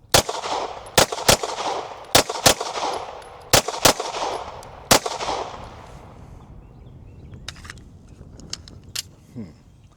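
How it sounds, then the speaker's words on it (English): Steel-frame handguns fire 115-grain Federal Champion rounds at a range in quick pairs, loud sharp cracks with ringing tails, about eight shots over five seconds. Faint clicks and handling noise follow once the shooting stops. "I'm gonna just shoot some doubles just to get a feel of which recoil I like the best"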